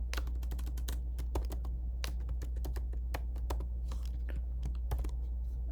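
Rapid clicking of a computer keyboard as someone types code for a C++ tutorial: a steady run of sharp, close keystrokes over a faint constant hum, with no talking.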